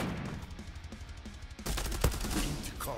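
Glock pistol fire in the Zula video game: quiet background at first, then a sudden loud burst of rapid shots with one sharp crack standing out, followed by continued clattering gunfire.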